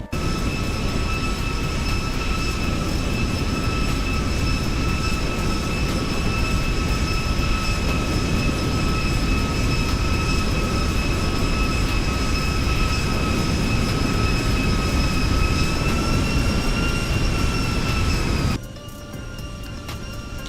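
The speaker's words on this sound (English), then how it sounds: "I think I like this flyby better." Aircraft flyby in a flight simulator game, X-Plane 12 or MSFS, on an Orlando to Atlanta trip: a sustained loud engine roar with steady whining tones that bend slightly near the end before cutting abruptly to a quieter hum.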